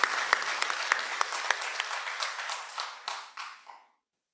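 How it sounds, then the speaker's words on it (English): An audience at a university forum on food security claps warmly for a speaker, a dense steady round of applause that thins out and stops after about four seconds. "Let us all give a warm applause to our speaker."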